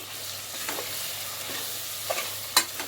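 Coriander powder being stirred into chicken pulao: a soft, steady frying hiss with a few light scrapes of the spoon and one sharper clank near the end, close and fairly quiet.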